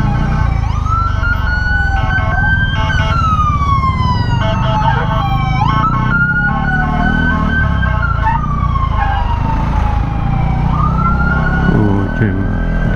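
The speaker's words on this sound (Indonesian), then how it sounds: "the polis tengah escort ambulans" A police siren wails loudly and continuously while escorting an ambulance on the road, its rising and falling sweeps repeating close by over the hum of traffic, with no speech.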